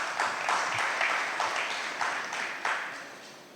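An audience at a FinTech Forum in Djibouti claps steadily, a dense, even patter of many hands at moderate volume with no one speaking over it.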